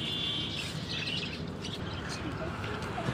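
Pigeons at an outdoor pigeon market give continuous soft chirps and calls against a steady, busy background hum, with no clear single coo standing out.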